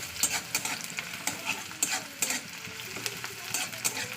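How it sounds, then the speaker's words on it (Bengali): Onion fries in hot mustard oil in a wok, a close, constant sizzle punctuated by frequent rhythmic scrapes and knocks of a spatula as it is stirred. "পেঁয়াজটা এবার লালে করে ভেজে নিতে হবে"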